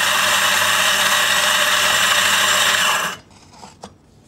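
A Quamar M80e coffee grinder grinds a full dose with a loud, steady motor whir that cuts off abruptly after about three seconds, followed by a few faint clicks and taps.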